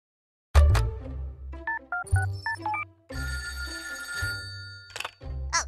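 A telephone bell rings in a kids' Spanish-learning cartoon, with short bursts of ringing separated by gaps and mixed with tonal musical jingles, moderately loud and without speech.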